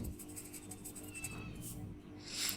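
Chalk or marker scratching and tapping across a classroom board during a maths lesson on sets, a steady run of small strokes, close and quiet, with no talking.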